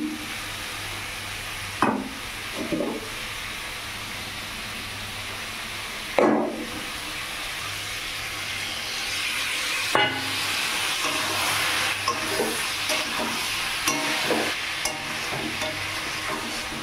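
Shrimp sauté in a pan after water is added, giving a steady hiss and sizzle broken by a few sharp spatula stirs and scrapes, with no voices.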